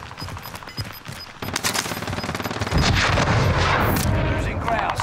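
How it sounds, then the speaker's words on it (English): A rocket launches during a Call of Duty Warzone match, a loud rushing blast that swells and holds amid continuous gunfire and explosions, dense and close throughout the battle. "Someone shot a rocket."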